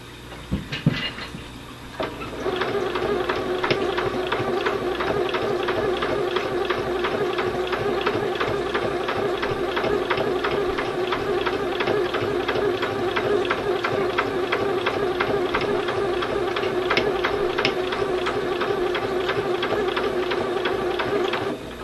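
A sewing machine runs steadily, stitching over pins along the seam of an alternating-pattern beanie hat, a continuous close mechanical whir with fast rhythmic clicking after a brief start.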